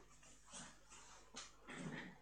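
Faint, distant dog whines come in a few short bursts over a low background hum.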